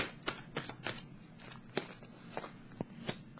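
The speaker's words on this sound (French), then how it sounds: "Je vais piger une autre carte ici." Tarot cards being shuffled and drawn, a series of soft crisp riffling snaps at a fairly steady rhythm, close and moderately quiet over faint room noise.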